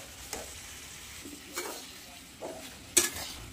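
A spoon scrapes cooked potato and green tomato chutney with coriander out of a pan onto a plate: a few soft, spaced scoops ending in a sharp metallic clink, quiet and close, with no voices.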